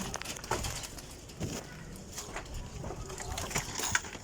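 Pigeons coo in soft, low, intermittent bursts, a few calls spaced over a few seconds against faint background noise.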